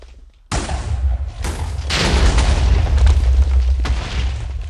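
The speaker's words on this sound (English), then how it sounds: "Big damn explosion." A big explosion from blowing up many things in the Minecraft video game: a sudden loud blast followed by a dense, rumbling roar of further detonations that sustains to the end, with one more burst near the close.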